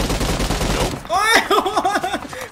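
Gunfire from a new weapon in PUBG Mobile erupts in a loud burst at the start, then gives way to sweeping, warbling tones and excited voices through the rest.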